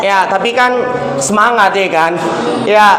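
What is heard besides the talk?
No distinct noise like a dog, phone or traffic.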